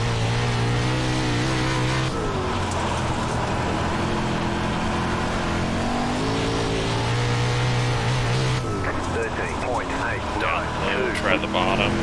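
A 410 sprint car engine races on a dirt track in iRacing, its loud, steady drone shifting pitch through the corners and climbing as it accelerates, with a voice talking over it throughout.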